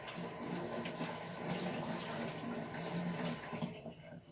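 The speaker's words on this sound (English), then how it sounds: "Okay, wet hands, the blade, I'm washing it." Running water rinses a knife blade and wet hands during stone polishing, a steady broadband wash with faint splashing that holds throughout at close range.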